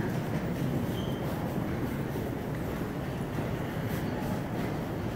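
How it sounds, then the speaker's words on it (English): AirTrain to JFK Airport at Howard Beach station, a steady loud rumbling roar of rail cars filling the whole stretch with no clear breaks. "This is, if you come off the A train, this is where you board the air train."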